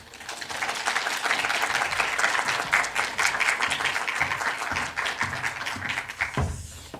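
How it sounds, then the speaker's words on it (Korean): A congregation applauds at a Wednesday evening church service to welcome a visiting guest from Busan, a steady crackle of many hands that tapers off near the end. "우리 감사와 환영의 마음을 담아 박수로 모시겠습니다"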